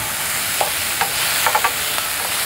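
Chili and garlic stir-frying in about a tablespoon of oil, a steady broadband sizzle with a few soft scraping stirs of a spatula spaced through it, close and moderately loud, no voices.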